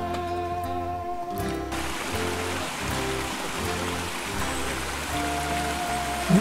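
Stream flowing near the River Ure on a countryside walk by the Moorcock Inn, a steady rushing, trickling water sound close by, continuous and even, with no talk.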